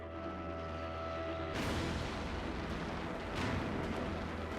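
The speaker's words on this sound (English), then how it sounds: "Facing an intense artillery barrage from the Americans, Bernhard is unable to fly close enough" An artillery barrage pounds at the Remagen bridge in World War II, heavy booms rolling into dense continuous rumble, loud and distant-sounding, with a second swell of blasts near the end.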